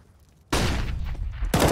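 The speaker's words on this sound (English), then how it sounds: "That was a good flashbang" Flashbang grenade going off in Counter-Strike on the Dust2 map: a sudden loud burst after a quiet start, holding as a sustained ringing blast for about a second before a second sharp hit.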